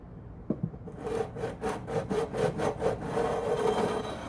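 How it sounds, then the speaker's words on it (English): An extra-coarse fret leveling file, also a sharpening stone, is drawn across the frets of a vintage Alvarez 12-string guitar in a run of quick, rhythmic rasping strokes, close and fairly quiet, after a couple of light taps. "I'm going to come down here with this fret leveling file"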